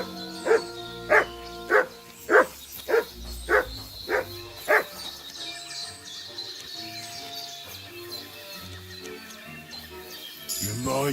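A dog barks eight times in an even rhythm, loud and close. The barks give way to a busier background of mixed sounds and faint activity.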